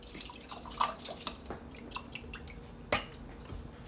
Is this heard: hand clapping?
no